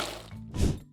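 A box dropped onto a hard surface lands with one dull, fairly loud thud that has a short rattling tail, after a softer shuffle of handling and with no voices.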